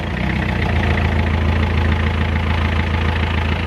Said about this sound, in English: you need to let the engine idle for around 15 minutes or so